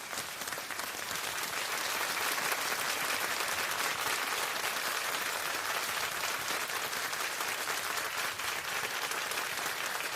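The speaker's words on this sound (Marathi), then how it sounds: "टाळ्या वाजत राहिल्या पाहिजेत." A game show studio audience claps continuously, dense, even applause at moderate level that holds steady from start to finish with no talk on top.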